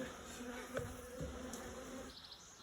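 Bees in an attic buzz close by in a soft, wavering hum, several insects droning and shifting in pitch as they move around.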